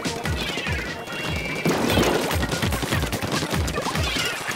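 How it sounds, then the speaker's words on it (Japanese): A hamster-like enemy blows up in Splatoon 2 on a festival-only stage, with dense crashing bursts and rapid popping over busy game noise, loud and continuous throughout. "ハムスター、ハムスター爆発した。"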